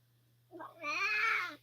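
A single cat gives a drawn-out, fairly loud meow that rises and holds before fading, preceded by a short softer chirp, with a low steady hum underneath and nothing else around it.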